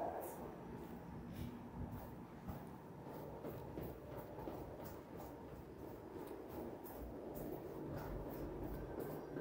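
Toronto subway train at Broadview station, a steady low rumble of cars on the rails with repeated faint clicks, heard from the platform at a moderate distance and fairly quiet, with faint voices.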